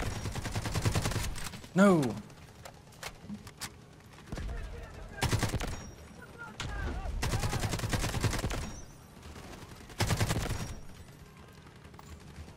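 AKM rifle firing 7.62 rounds in the Delta Force Hawk Ops video game, several loud, close bursts of automatic gunfire separated by short pauses, with a player's voice cutting in between.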